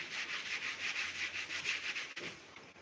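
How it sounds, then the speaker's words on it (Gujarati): A pressure cooker scrubbed by hand with dry cleaning powder, a continuous close rubbing hiss with a rhythmic back-and-forth pulse, ending in a brief knock. "સૌપ્રથમ આપણે આવી જ રીતે કોરો કોરો હાથ ફેરવી પાવડરને અને આવી રીતે આપણે ઘસી લેશું"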